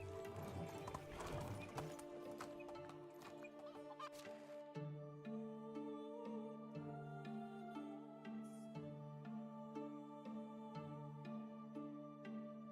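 Horse hooves clip-clop steadily while riding in the video game Medieval Dynasty, a regular rhythmic trot heard close over tonal background music, with the rider's mount clearly driving the beat throughout.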